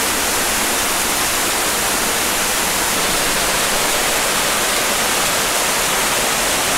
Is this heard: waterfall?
yes